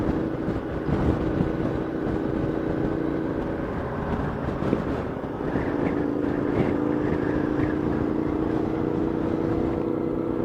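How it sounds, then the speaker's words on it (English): Ducati 659 Monster motorcycle engine running steadily near a beach in Sorrento, a continuous loud rumbling drone with wind buffeting and no speech over it. "My money's on that's a 659 Monster Ducati. You can hear the engine"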